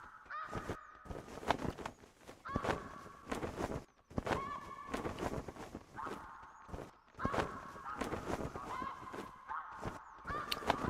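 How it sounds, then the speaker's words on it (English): Snow geese honking in theHunter Classic hunting game, a large flock calling in repeated loud bursts with overlapping honks, punctuated by sharp impacts. "That's a lot of geese."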